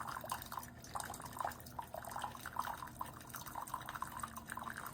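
A pink Keurig K-Mini single-serve coffee maker dispenses coffee into a cup, a faint steady trickle with quick irregular drips and gurgles throughout.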